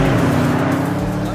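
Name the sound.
Porsche Panamera Turbo S driving on racetrack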